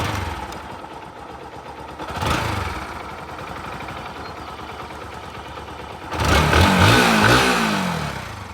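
A 2022 Bajaj NS 160 ABS motorcycle engine idles steadily, then revs up loudly twice, once briefly and once for a longer stretch near the end.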